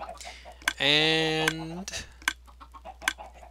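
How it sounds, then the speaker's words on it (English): Chickens in Minecraft cluck in short sharp bursts, with one longer, louder drawn-out squawk near the start, close and clear, and a brief spoken word in between. "anytime you want to squish the chickens"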